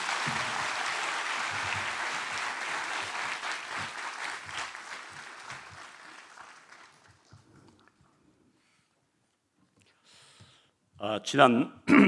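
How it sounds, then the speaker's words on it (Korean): A church congregation gives welcoming applause, a loud, full burst of many hands that holds for several seconds, then thins and fades into near silence before a brief voice and rustle near the end. "환영의 박수를 드리겠습니다"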